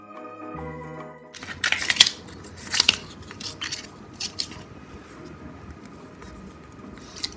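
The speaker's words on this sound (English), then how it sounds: "Now we're going to just take our scissors so that we maintain our little cuts and cut the edges like that." Scissors trim the edges of paper pieces for a DIY doll crib craft, giving a run of crisp, close snipping clicks after a short quiet musical opening, with faint background sound between cuts.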